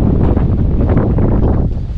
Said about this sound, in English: See that wind?